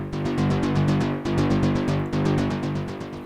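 An Omnisphere 2 synth arpeggiator plays its default preset, a bright, rhythmic run of rapid repeating notes over a sustained low chord that restarts in three even phrases, loud and clean with no voice.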